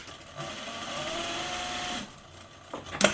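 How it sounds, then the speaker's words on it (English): A sewing machine stitching along a ribbon on a fabric face mask, a short, quick run of rapid mechanical whirring that stops abruptly, followed by a faint click. "we're going to stitch along the ribbon, not at the end"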